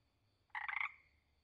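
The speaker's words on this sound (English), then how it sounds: "Spring peeper." A spring peeper frog lets out one short, pulsed call of about a third of a second, nearby and isolated against faint background hum.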